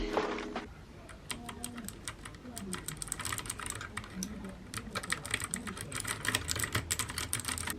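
Keys on a new computer keyboard click in quick, uneven bursts of sharp taps, close and fairly quiet, with a brief voice at the start.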